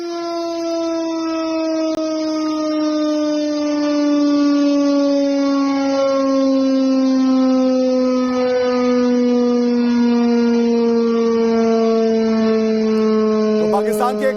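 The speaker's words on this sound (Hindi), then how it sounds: "सायरन है जरा उसकी आवाज सुनिएगा।" A wartime air-raid siren in Khyber Pakhtunkhwa, Pakistan wails continuously and loudly, holding a steady, slowly sinking tone throughout.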